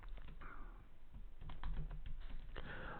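Fingers type code on a computer keyboard in a quick, uneven run of close clicks that speeds up into a denser burst near the end.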